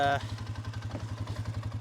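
A Polaris Sportsman 570 ATV engine idles as it warms up, close by, with a low, steady, rhythmic chugging pulse and a short higher tone at the start.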